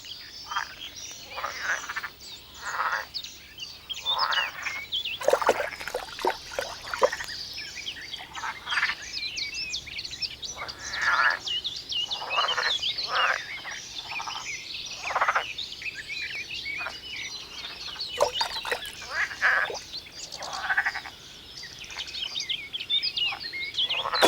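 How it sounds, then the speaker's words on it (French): A dense chorus of frogs and toads croaking continuously and overlapping, with rhythmic pulsing calls and occasional bird chirps mixed in over a steady outdoor background. "Les sons jouent un rôle important dans la vie des batraciens"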